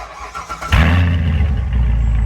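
A modified Chevrolet Corvette C7 Stingray V8 is remote-started: a short quiet lead-in, then the engine fires with a sharp burst and settles into a loud, deep, steady rumble close by.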